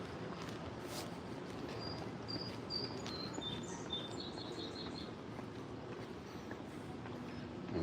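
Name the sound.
birds calling at San Diego Zoo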